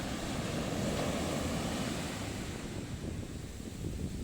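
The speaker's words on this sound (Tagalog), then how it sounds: "Kita nyo naman yung lagaslas ng alon." Ocean waves surge and wash onto the North Shore beach at Baler, Aurora, a steady broadband roar with rumbling low end and some wind buffeting the microphone, continuous and loud without speech.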